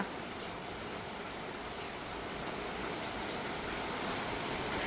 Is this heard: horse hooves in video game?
no